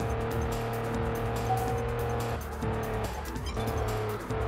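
A car in the Test Drive Unlimited racing game roars at high revs with a steady engine drone, while tire squeal and skidding run through the spin-out, with no voices.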